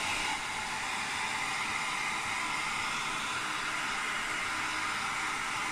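Hair dryer blowing hot air onto wet paint, a loud, steady, unbroken whooshing hiss that holds constant from start to finish, close to the listener.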